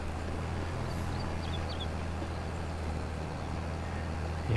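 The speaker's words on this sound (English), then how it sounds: "this tractor has no problems at all pulling this" A tractor pulling a seeder in Farming Simulator 22 drones steadily with a low, even engine hum under a faint wash of noise, continuous and moderately distant, no talk heard.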